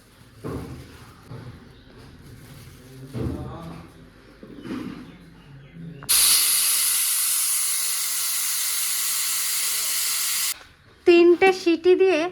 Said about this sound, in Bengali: প্রেশার কুকারে চাপিয়ে দিয়েছি